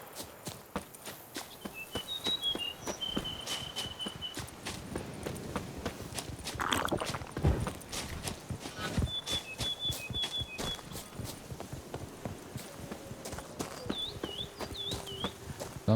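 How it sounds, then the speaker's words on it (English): Horse hooves clip-clop steadily in The Witcher 3: Wild Hunt, a continuous trotting patter with occasional chirping game sounds over it and no talk. "Sounds like a friggin' horse up there."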